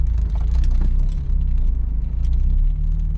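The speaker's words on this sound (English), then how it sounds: "I am reversing." A manual-transmission car reverses, its engine giving a low, steady rumble close by, with faint clicks and small knocks over the drone and no talk.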